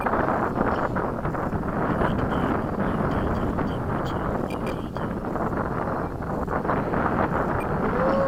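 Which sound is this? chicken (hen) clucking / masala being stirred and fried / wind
wind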